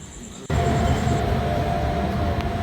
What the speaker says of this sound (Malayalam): നമ്മുടെ ട്രെയിൻ വന്നു നാഗർകോവിൽ പോകാനുള്ള നമ്മുടെ ട്രെയിൻ വന്നിട്ടുണ്ട്